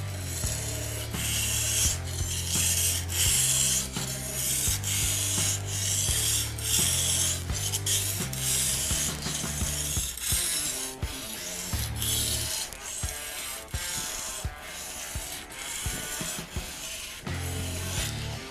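A knife blade is stroked across a sharpening stone, steady rhythmic rasping scrapes close by, repeated back and forth without pause and with no voices.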